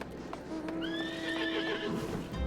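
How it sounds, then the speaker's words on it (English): A horse neighs and whinnies in Final Fantasy XIV, a clear rising-and-falling call over a steady game background, with hoof clip-clop beneath. "Someone's got a horse."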